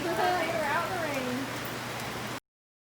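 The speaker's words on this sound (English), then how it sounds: "You're out in the rain." Rain falls steadily outdoors in the Smoky Mountains, a continuous wash of patter under a person speaking close by for a couple of seconds before cutting off.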